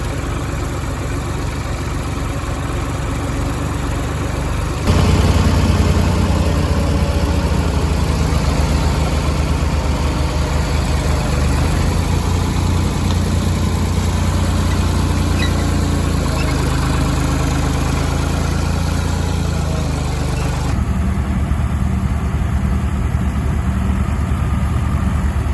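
A farm tractor idling during hay work, a loud steady low engine rumble that steps up slightly after a few seconds and holds evenly, with no voices.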